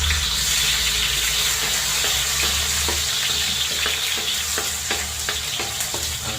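Chopped onion and tomato sizzle in hot frying oil for a shrimp guisado, a close, continuous crackling fry with scattered sharp pops and stirring clatter throughout.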